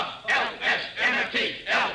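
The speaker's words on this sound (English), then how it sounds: "Hey, listen to the cheering section" A football cheering section in a radio drama shouts a rhythmic spelled-out chant, five loud crowd bursts in an even beat.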